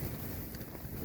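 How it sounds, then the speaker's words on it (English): Strong wind buffeting at a wild campsite on Wild Boar Fell on a cold morning, a brief loud rumbling gust with heavy low roar close to the microphone. "so it's kind of windy. Yeah, like pretty windy."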